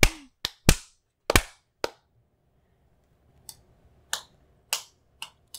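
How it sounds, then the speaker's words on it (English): A person, apparently a small child, claps hands in short sharp bursts: a few quick claps close together, a pause, then several more spaced claps, each crisp and near with quiet between them. "He clapped with us, and then for several seconds afterwards."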